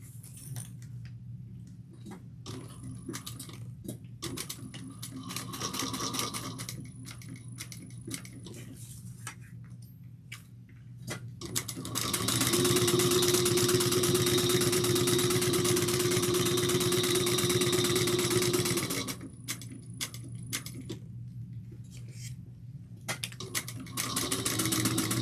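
A sewing machine top stitches a tote bag at an eighth of an inch, running in a steady whirring burst between quieter pauses with light ticking and handling sounds.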